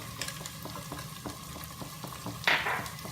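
A spoon stirs pumpkin with sugar and amchoor powder in a hot pan, giving soft, regular scraping strokes over a steady low sizzle, with a brief brighter hiss near the end.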